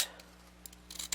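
Pinking shears cutting through paper, brief crisp snips at close range, quiet, with a couple of short cuts near the end.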